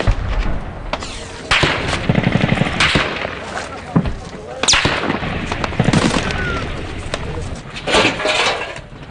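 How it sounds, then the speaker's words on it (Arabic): An armored vehicle exchanges fire in combat with a 23 mm machine gun, producing sharp, booming gunshots and short bursts at varying distances, some loud and close, against a rumbling background with voices underneath. "إحدى مدرعات قوات الجيش العربي السوري تقوم الآن بالاشتباك حسب ما علمنا مع رشاش تابع للمسلحين عيار 23 ملم"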